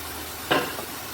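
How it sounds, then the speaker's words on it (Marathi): Chopped tomato being stirred into fried spices in oil, a single short scrape and sizzle burst up close over a steady background hiss. "टोमॅटो देखील व्यवस्थित मसाल्यांसोबत मिक्स करून घ्यायचं आहे"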